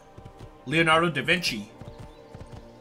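Horse hooves clip-clop steadily in Assassin's Creed 2 gameplay, a regular hoof rhythm under a short burst of in-game speech.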